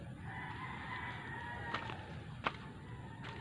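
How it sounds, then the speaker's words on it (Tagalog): A bird gives a drawn-out, honking call over a low outdoor rumble, followed by a few sharp clicks or knocks at a distance. "May malaking ibon."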